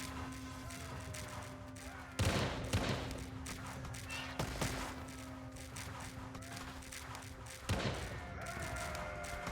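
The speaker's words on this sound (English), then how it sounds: "We hear the sound of rocket cannons." Rocket cannons fire in a medieval war strategy game, with a few sharp booming blasts standing out over a dense, continuous battle din and a steady hum, while a voice talks throughout.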